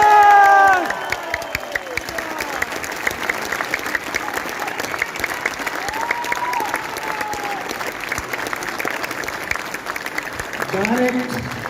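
A large crowd at a direct-selling friends meet claps and cheers in a sustained, dense burst, with shouts and whoops rising above the clapping and a voice heard briefly at the start and end.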